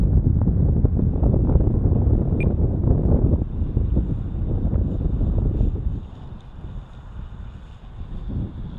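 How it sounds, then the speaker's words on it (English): Choppy, nasty wind buffets the microphone at a model aircraft airfield. A loud, continuous roar eases off partway through and then starts to build again. "Some real choppy, nasty wind going on here."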